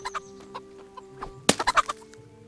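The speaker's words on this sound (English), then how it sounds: "Right, I'm going to kill a chicken." A chicken clucks in the medieval video game Kingdom Come Deliverance, with scattered soft clucks leading into a sharp squawk and a quick run of louder clucks, close and clear over a quiet background.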